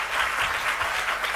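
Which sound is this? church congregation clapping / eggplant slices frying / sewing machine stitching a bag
church congregation clapping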